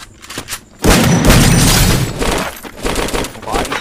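Gunfire in a shooting video game strikes a wall as a loud, dense burst of booming shots that runs on for several seconds, with faint voices talking at the start.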